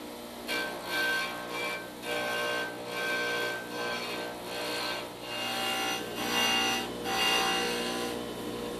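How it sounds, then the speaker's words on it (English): A disc sander shapes a purple heart hardwood disc, a steady abrasive rasping hum with rhythmic swells as the wood is pressed against the spinning disc, continuous and fairly close throughout. "the disc sander will cut away the excess material and create a perfectly symmetrical disc"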